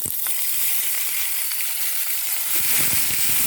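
Jackfruit pieces tossed into a hot pan with curry leaves and chilli flakes give off a loud, continuous, even hissing sizzle with small pops throughout.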